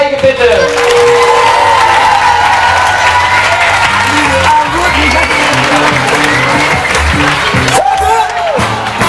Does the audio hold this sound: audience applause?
yes